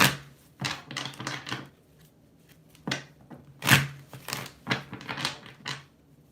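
Tarot cards shuffled by hand in repeated crisp riffling bursts with short gaps, close and moderately loud, with no talk over them.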